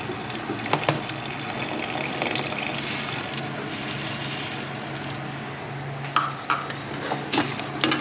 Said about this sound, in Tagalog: Hugasan na po natin yung siling haba.